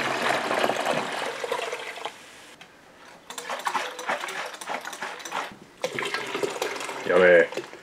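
Apple cider vinegar sloshes as it is shaken and poured out of a bottle, first as a steady liquid rush. After a short quieter gap come bursts of splashing and gurgling, ending in a louder clunk.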